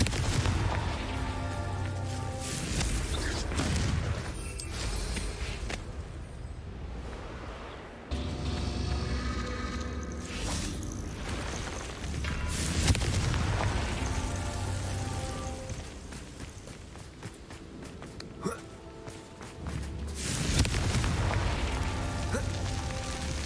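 Confringo fire spell explosions in the game Hogwarts Legacy, several booming bursts at irregular intervals over crackling, rain-like debris and rumbling game ambience, no talk.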